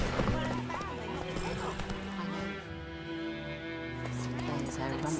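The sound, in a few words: horse Roach's hooves and whinny in The Witcher 3 video game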